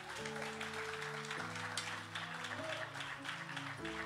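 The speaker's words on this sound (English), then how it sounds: "Give God a hand clap of praise." A church congregation claps hands in praise, a steady dense patter of many hands heard over sustained organ or keyboard chords throughout.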